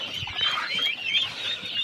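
Ducks being driven into their shelter at a home poultry setup, giving a steady, close run of overlapping quacks and clucking calls with no voices over them.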